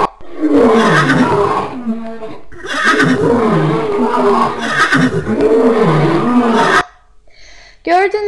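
In a Scratch forest animation, a horse sound effect answers a lion's roar. Loud, drawn-out neighing and roaring calls come in three long bursts, followed by a short high whinny at the end.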